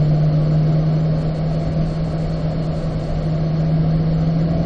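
A car engine drones loud and steady on a race track at Spring Mountain, pulling up through the gears toward fourth with a strong constant hum and no talk.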